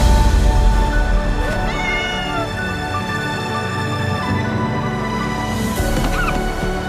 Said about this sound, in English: the winner is the incredibly cute cat from the movie Flow